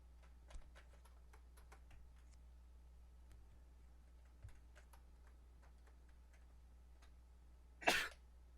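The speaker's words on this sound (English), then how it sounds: "There's a cough" In the video game Ib, a man in an art museum lets out a single short cough near the end, after a stretch of faint steady ticking, heard quietly in an otherwise near-silent setting.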